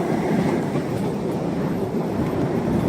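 A downtown train runs along its tracks with a steady, close rumble of wheels and carriage noise that stays loud and even throughout, with no talk.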